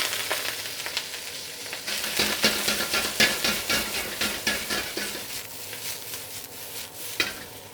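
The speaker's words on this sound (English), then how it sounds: "So let's go ahead and add some of this bok choy." Baby bok choy stir-frying with oil in a hot wok, loud steady sizzle broken by repeated stirring and tossing scrapes, with no talking.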